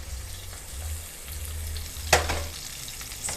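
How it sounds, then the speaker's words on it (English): Salmon and spinach rolls deep frying in a skillet of hot oil, a steady close sizzle and bubbling with one brief clatter partway through, no talking. "Y'all see that sizzling?"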